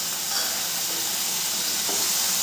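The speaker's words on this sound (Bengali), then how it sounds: "মশলাটা লেগে যাচ্ছে, আমি আবারও অল্প একটু জল দিয়ে দেবো।" Masala frying in a pan with a splash of water added while cooking an omelette curry, giving a steady broad hiss and sizzle that stays even and fairly soft throughout.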